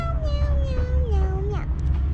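A child imitates a cat, drawing out one long wavering meow over a loud, rumbling engine background at a car racing event.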